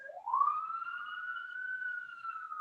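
An emergency vehicle siren passes outside, a single sustained rising-then-level wail, moderately loud and alone with no talk.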